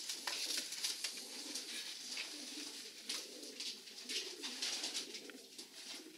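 Pigeons coo steadily in a breeding loft, several birds overlapping in soft repeated calls close by, with rustling and wing movement throughout and no talking.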